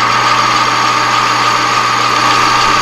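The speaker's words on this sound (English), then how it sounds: "This boring bar handles it real well." A boring bar deburring a metal part on a lathe for an umbrella stand build gives a steady, loud machine drone with a constant high whine and low hum, unbroken for the whole stretch.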